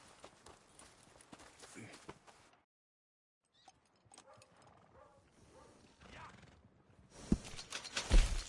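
Horse hooves clop in the Western video game Red Dead Redemption 2, soft and intermittent at first, then louder toward the end, mixed with game voices and ambience.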